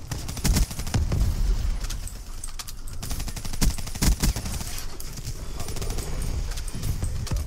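Dense Black Ops 3 gunfire, rapid bursts of shots and crackling volleys that continue almost without a break, loud and close.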